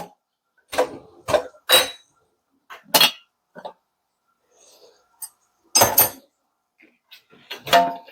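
Silverware clinks and clatters in separate bursts as pieces drop into the bottom of a kitchen dishwasher, close by, with quiet pauses between the handfuls.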